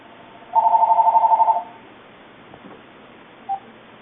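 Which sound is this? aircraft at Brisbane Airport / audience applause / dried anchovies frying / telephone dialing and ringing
telephone dialing and ringing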